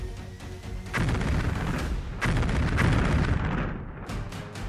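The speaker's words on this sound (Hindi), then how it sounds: "बैक टू बैक 2 एटमी धमाके कर पुतिन ने दुश्मनों के डार्क फ्यूचर की गारंटी दी है" Heavy, roaring explosion blasts fill the track in two long rumbling surges followed by sharper cracking bursts, a loud sound effect accompanying a news report on Russian nuclear weapon tests, with no voices.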